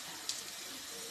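Water runs steadily from a tap as a log cake mould is rinsed under it, a soft continuous splash at moderate distance with no talking.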